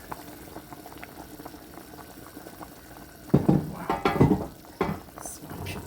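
Meat broth for Ethiopian fitfit simmers in a pot with a soft, steady bubbling, then louder splashy stirring and clattering bursts close by, with a voice briefly in the background.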